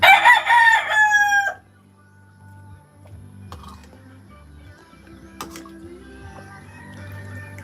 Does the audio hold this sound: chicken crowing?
yes